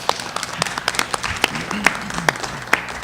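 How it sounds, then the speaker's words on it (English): Brief clapping from a small audience welcoming a new district manager at a Brooklyn borough service cabinet meeting, scattered individual claps standing out at close range rather than a full ovation. "And so a round of applause."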